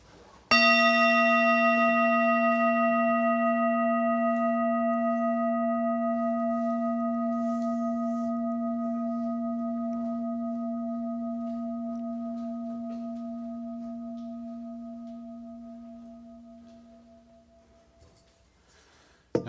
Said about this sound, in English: Now that is the sound of the bell of mindfulness.